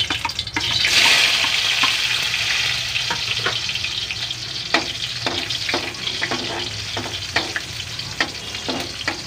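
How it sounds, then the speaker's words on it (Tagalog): Onions hit a hot pan with a loud, hissing surge of frying that settles into a steady sizzle, then scattered clicks and scrapes of stirring follow, close by. "igisa muna natin ang sibuyas"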